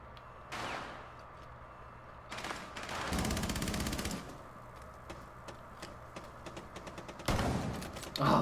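Bursts of automatic gunfire in the video game Rainbow Six Siege: several rapid rattling volleys and scattered single shots, loud and close, separated by quieter stretches with a faint ticking, and no speech.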